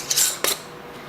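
A metal lid and screw ring go onto a glass jar of watermelon rind jam. Two quick, close metallic clinks sound against the glass, then everything goes quiet.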